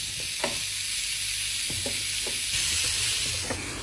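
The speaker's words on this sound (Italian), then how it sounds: "Le grigliamo." Zucchini slices sizzling on a hot grill pan, a constant bright frying hiss with occasional soft clicks and taps of a utensil.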